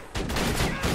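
Rapid, dense turret gunfire from Borderlands 2 multiplayer rattles continuously at close range, loud and sustained for its short duration with slight pulsing bursts.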